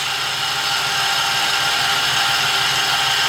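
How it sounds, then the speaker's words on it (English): A Toyota Tacoma engine, suspected of a failing water pump, runs with a loud, constant high whine over a broad mechanical drone, steady and close throughout without talk. "It still sounds like from heart of the engine, from inside, like it could be the water pump."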